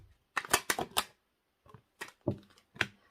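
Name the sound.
drawing extra tarot cards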